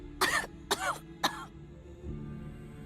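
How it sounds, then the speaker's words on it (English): A female character in the video game Path to Nowhere coughs three times in quick succession, each a wet, gurgling, throaty burst, close and fairly loud, followed by a low quiet background hum. "She coughs. It's a wet gurgling sound."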